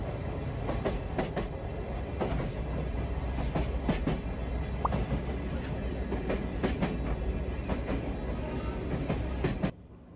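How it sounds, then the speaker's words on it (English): The Sagano sightseeing train in Arashiyama, Kyoto rolls along the tracks at about 25 km/h with a continuous rumble and repeated clacking of wheels over rail joints, steady throughout before cutting off near the end. "The train travels at an average speed of 25 kilometers per hour."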